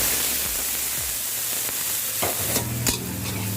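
Chilli and garlic stir-fried in hot oil in a pan after frying crisp basil, a steady loud sizzle with scraping stirs that grow busier toward the end, no talking.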